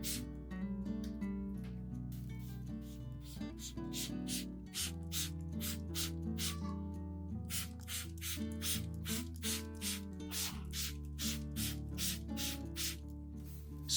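An egg solution misted onto orchid leaves, a series of short, even spray bursts in a steady rhythm, close and clear over a sustained background musical drone, with no talk.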